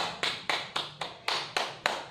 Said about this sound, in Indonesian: berikan tepuk tangan untuk kedua kelompok